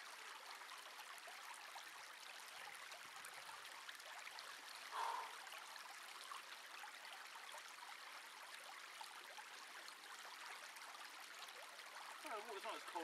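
A woodland stream in snowy woods flows steadily with a soft trickling wash throughout, fairly faint and unbroken, with a brief splash near the middle and a little more gurgling toward the end.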